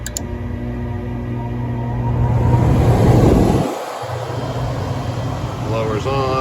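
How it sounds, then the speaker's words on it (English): A gas furnace blower runs with a steady mechanical hum and airy rush that swells for a moment and then settles back into a constant drone, with someone talking nearby. "Blower's on, and we have heat."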